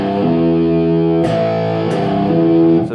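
Overdriven electric guitar plays a riff: down strum, G on the upbeat, pull-off to E, loud distorted notes sustaining with sharp pick attacks throughout.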